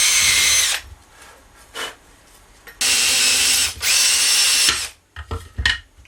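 A power drill bores out small plastic curtain track wheels to 8mm, running in several loud bursts of whining at close range, separated by short pauses and a few clicks.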